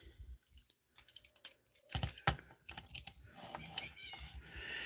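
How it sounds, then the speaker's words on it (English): A house cat lets out a meow in a busy indoor room during a live toy unboxing, with clicks, rustles and handling noises around it and a faint voice in the background. "Straight up went with a full-on meow."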